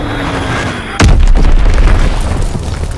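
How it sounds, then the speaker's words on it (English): A bomb detonates in the Call of Duty WWII beta, a sudden loud boom after a second of quieter ambience, followed by a heavy rumbling roar and scattered debris crackle that carries to the end. "Enemy bomb incoming! Get to cover!"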